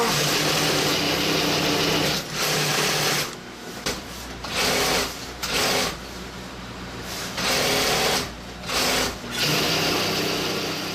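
Several sewing machines run in a busy sewing workshop, a loud buzzing whir that starts and stops in bursts of a few seconds each, with brief quieter gaps between runs.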